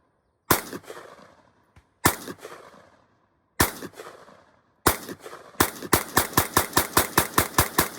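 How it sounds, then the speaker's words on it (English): Norinco 84S semi-automatic rifle firing sharp, loud reports, first four spaced shots with ringing decay, then a rapid string of about a dozen evenly paced shots close by. "you're gonna pull the trigger, right? It'll fire, eject the empty cartridge, put it in a new cartridge"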